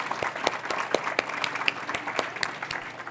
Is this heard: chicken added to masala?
no